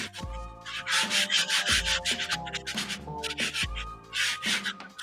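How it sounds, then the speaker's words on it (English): Wing laminate being roughened by hand with 60 grit sandpaper, loud close scratchy rubbing strokes in a steady back-and-forth rhythm, each stroke a burst of rasping noise, no talk over it. "Roughen everything up a little bit so that this laminate will stick"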